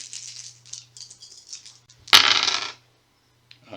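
Five dice are rolled for an attack in the board game Shadows of Brimstone: a single short clattering burst on a tabletop, close and loud, after a quiet stretch.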